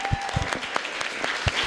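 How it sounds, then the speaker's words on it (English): An audience at a Somali community gathering in Columbus, Ohio applauds in a brief burst of close, crisp clapping with a few louder individual claps. "Let's take a moment to give Ilhan a huge, huge round of applause again."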